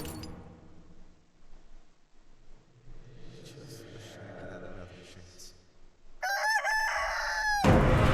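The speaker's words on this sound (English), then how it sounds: "Sounded like that chicken was whispering in my ear." A game chicken from Chicken Feet crows and clucks loudly near the end, a sharp burst of rooster calls that follows a stretch of quieter game sounds and background noise.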